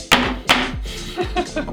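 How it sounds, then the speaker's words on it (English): A baking pan full of vegan ladyfinger batter is dropped onto a table, giving two sharp, loud thumps about a third of a second apart, followed by softer clattering knocks. "You take your pan, lift it up, drop it straight down on the table."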